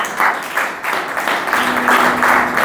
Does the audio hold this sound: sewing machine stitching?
no